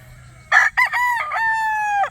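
A rooster crows loudly and close by, a long drawn-out call that rises and then holds steady before cutting off, with a short clucking burst at the start.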